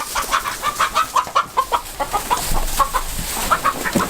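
Chicken clucking near a Maremma puppy during a farm introduction: a run of short, close, repeated clucks in an uneven rhythm over about four seconds, with no talking.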